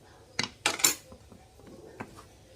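A utensil scrapes and clinks against a cooking pan while ginger paste is stirred in, a few sharp close knocks in quick succession followed by softer scattered taps.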